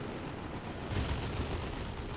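A plasma cannon fires in the Dawn of War II: Retribution strategy game, a loud booming blast that swells near the one-second mark and rumbles on in a dense low wash of battle noise.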